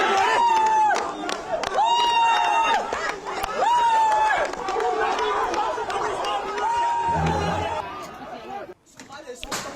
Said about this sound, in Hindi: बेकाबू भीड़ ने इस तरह एसपी ऑफिस पे हमला किया है